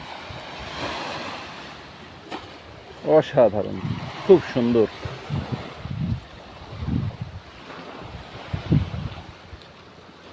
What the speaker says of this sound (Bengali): আর সাগরের গর্জন দেখেন